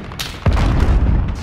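A cruise missile strike explosion in Call of Duty Modern Warfare, a sudden loud deep boom that follows a short lighter crack and rumbles on to the end.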